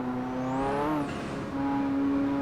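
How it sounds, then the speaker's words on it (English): A Ferrari F40 engine in the game Assetto Corsa drones steadily, with a rising rev and a burst of crackling backfire pops as it shifts, then settles back to a steady hum. "the backfire noises in this, the car just constantly crackles"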